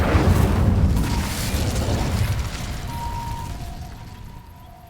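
The Incendio fire spell ignites dry vines in Hogwarts Legacy, a loud whooshing burst with a low rumble that slowly decays over several seconds into a faint crackle and thin tonal ring.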